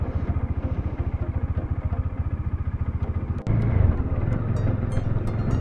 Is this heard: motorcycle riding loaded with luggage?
yes